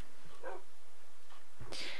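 Minecraft wolf pups in a pack, a few short yips and whimpering barks in quick succession, close and fairly loud against a quiet background.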